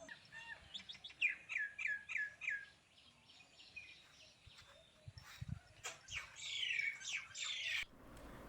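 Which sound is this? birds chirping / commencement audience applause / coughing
birds chirping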